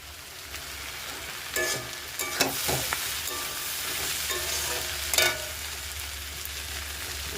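Pumpkin flower fritters frying in hot oil, a continuous bubbling sizzle close by, punctuated by a few sharper scraping clatters from turning them in the pan.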